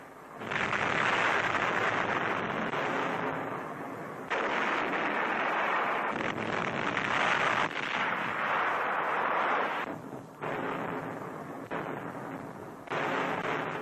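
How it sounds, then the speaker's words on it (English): US Navy big guns fire in a 1943 newsreel of the Tarawa invasion, sounding as a dense, roaring barrage of sustained blasts broken by a few brief gaps, loud and continuous throughout. "Dawn, and the Navy's big guns open fire."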